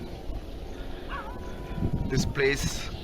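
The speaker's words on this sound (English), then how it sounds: "dogs start barking like crazy at a distance" Stray dogs bark far off near a wet road by ceremonial sites, a short cluster of faint, distant barks over steady background noise.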